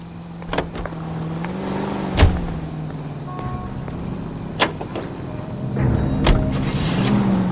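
Car driving in the video game LA Noire, a steady engine hum with occasional clicks and thumps scattered throughout, no voices.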